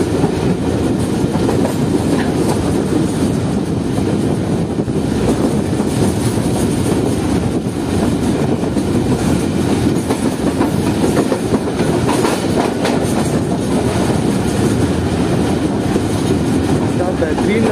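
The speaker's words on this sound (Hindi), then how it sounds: "ट्रेन एक शार्प कब ले रही है जो कि ठंडो आदम से निकलते ही आता है।" A freight train in heavy rain takes a sharp curve, a loud, continuous rumble with dense clickety-clack of wheels on rail that holds close and steady throughout.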